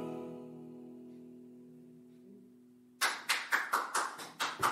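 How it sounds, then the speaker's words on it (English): After a fading sustained tone, a few people start clapping, about ten crisp claps in a quick, slightly uneven rhythm, close and clear. "clapping"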